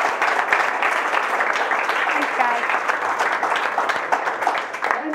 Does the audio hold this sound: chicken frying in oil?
no